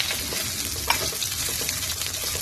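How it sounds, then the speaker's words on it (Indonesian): Chopped garlic and onion stir-frying in a little oil for fuyunghai, a close, steady sizzle with a sharp stirring tap near the start and no speech. "Tumis sebentar."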